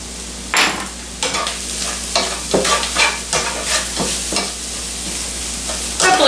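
Onions cooking with dark brown sugar in a pan, a constant soft sizzle broken by repeated stirring scrapes at an irregular rhythm, close and fairly loud.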